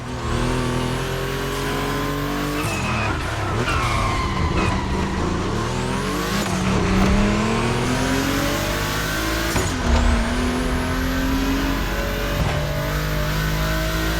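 Two race cars in The Crew Motorfest, a Volkswagen pairing, roar around a track with loud, continuous engine drone, rising and falling revs and sharp upshifts at steady intervals, no talking.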